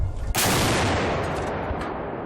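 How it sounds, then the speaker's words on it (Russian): A single loud gunshot at the Kazan gunpowder plant cracks sharply, then a long rumbling echo rolls on and slowly fades. "Внимание! Выстрел! Огонь!"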